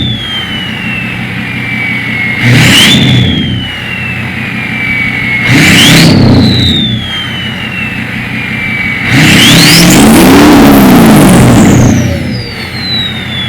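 A newly bought truck's engine revs hard three times, each roaring burst rising and falling between steady idle, close and loud with no talking.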